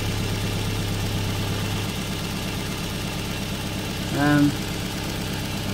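Toyota minivan engine idling steadily with a low, even hum throughout, close by; a voice speaks briefly and a short tonal chirp rises near the end.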